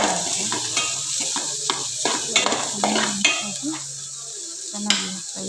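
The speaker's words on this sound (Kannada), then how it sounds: "ಚೆನ್ನಾಗಿ ಫ್ರೈ ಆಗಿದೆ" Masala paste frying in a pan before yogurt goes in for kathyawadi dahi thikkari, a close sizzle broken by repeated scraping stirs of a spoon against the metal, steady and fairly loud.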